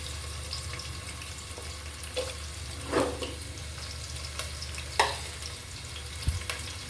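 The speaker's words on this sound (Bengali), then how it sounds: "কিছুটা পেঁয়াজ আমি ব্যারেস্তা করে নিব আর কিছুটা পরে আমি দিয়ে দিব খিচুড়ির জন্য" Sliced onions frying in oil for birista, a continuous soft sizzle with occasional louder crackles and stirring clinks scattered through, close and without speech.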